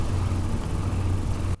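A water cooler hums steadily, a low continuous drone with a faint airy hiss above it, close and even for most of the stretch before cutting off abruptly near the end, lightly EQ'd for use in a lightsaber sound.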